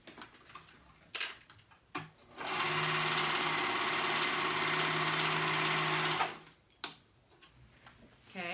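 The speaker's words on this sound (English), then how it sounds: "I'm gonna grab those 2 raw edges and meet them together, and I'm gonna sew at the raw edge" A sewing machine runs steadily for about four seconds, stitching two raw fabric edges together for a tunic, with handling clicks and fabric rustle before and after the run.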